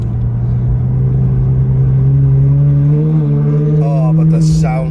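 A Ferrari 812 GTS engine drones loudly while driving, a deep steady V12 rumble that rises gradually in pitch as the car accelerates.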